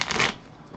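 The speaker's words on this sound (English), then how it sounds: "We're just going to shuffle these real quick here" Playing cards from a Port Royal card game shuffled in a quick, close riffle, a loud burst of crisp flutter fading into a soft rustle.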